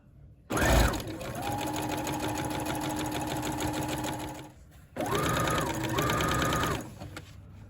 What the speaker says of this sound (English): then sew your sleeve into place on either side